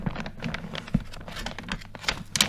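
Dry crinkling and crackling of stiff paint-warped coloring book pages, a quick irregular patter of small rustles close by, with one sharper crackle midway.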